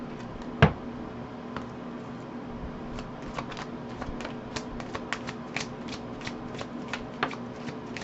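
Tarot cards shuffled by hand, a sharp riffle burst near the start followed by a steady run of soft, repeated card flicks and taps, close and quiet with no talking.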